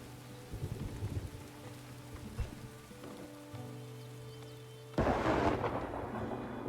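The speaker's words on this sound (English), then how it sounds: "Yeah, struck by lightning." Thunder from a lightning strike in the Farthest Frontier town-building game breaks in suddenly as a loud, broad rumble over quieter ambient game sounds and music, then keeps rolling to the end.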